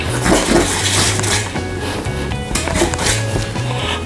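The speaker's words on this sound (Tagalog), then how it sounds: "whisk po natin lahat" A whisk beats fish katsu batter of egg, black pepper and salt in a bowl, fast rhythmic clatter and scraping with a faint tonal hum behind it.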